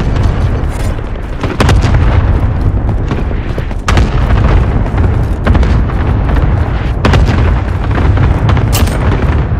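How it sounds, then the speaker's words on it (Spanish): A rapid barrage of deep explosions and booms from a Call of Duty: Warzone cluster airstrike rolls on, loud and dense, with sharper blasts breaking through a constant rumbling roar. "Ataque racimo lanzado."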